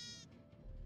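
A Minecraft sheep gives a single short bleat, faint and quick, at the opening of an otherwise quiet moment on a wool farm.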